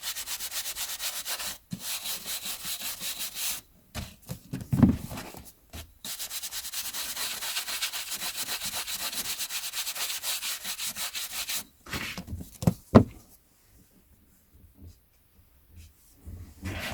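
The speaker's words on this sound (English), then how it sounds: "I think what we'll do is give these a brush off now." Collectible TV and film tie-in items are brushed off up close, with soft, steady swishing strokes in long runs broken by brief pauses and a few light knocks, fading to near silence at the end.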